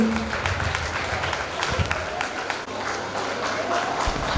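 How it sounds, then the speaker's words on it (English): Parents applauding at a school annual fest, a broad continuous patter of clapping from a crowd, fairly even in level, with some low background noise and faint voices beneath. "Please give a big round of applause, parents"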